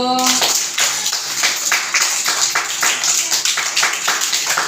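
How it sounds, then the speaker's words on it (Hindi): Children at an anganwadi centre clap their hands in steady rhythmic unison during an exercise routine, a string of bright, evenly spaced claps close by, with a voice briefly heard at the start. "ताली पाड़ो"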